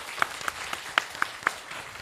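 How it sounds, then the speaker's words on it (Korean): Brief applause for five student teams at a Korean middle-school science inquiry competition final, a handful of sharp, separate claps in a quick uneven rhythm against a soft room murmur. "우리 5팀 모두 학생들에게 박수 부탁드립니다"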